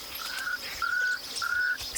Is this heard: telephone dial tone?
no